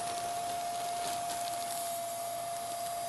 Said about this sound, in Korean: 청소기 갖다 대시면 돼요